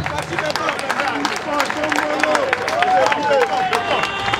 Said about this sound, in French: Applaudissons très fort pour le président de la République, Félix Tshisekedi.